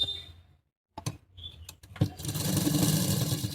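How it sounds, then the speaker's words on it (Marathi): A sewing machine runs a double line of stitching along a seam on an A-line gown, starting after a few short clicks and settling into a steady, close whir. "आता याच्यावर परत एक डबल शिलाई मारायची"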